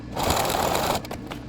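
A sewing machine stitches paper quilt pieces in one steady, close whirring run of about a second, then stops, followed by a few faint clicks.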